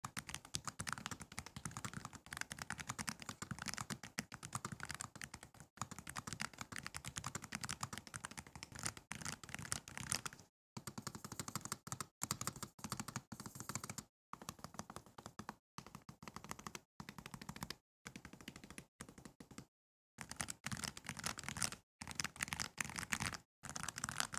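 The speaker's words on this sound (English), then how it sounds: "that is the sound test for the Air60 HE with low profile magnetic J Pro options" Fast, steady typing on a Nuphy Air60 HE keyboard fitted with low-profile magnetic Hall effect J Pro switches. The close, crisp keystrokes run continuously, then break into bursts separated by brief silent gaps.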